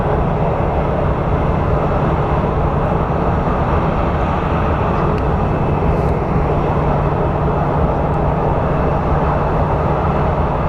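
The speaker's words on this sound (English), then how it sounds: "So the flight we're looking at is Southwest 969 headed to Dallas" Southwest airliner at Phoenix Sky Harbor airport, a steady, loud jet engine roar and rumble holding level throughout with no breaks and no talk.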